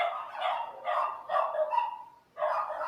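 Several dogs bark in uneven bursts, a few loud overlapping yaps close by with a brief lull before a final burst.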